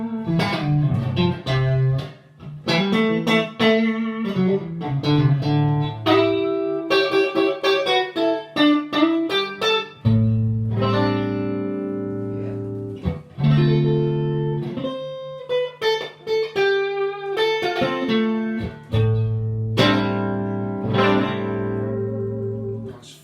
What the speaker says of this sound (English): Again, the neck pickup sounds like this.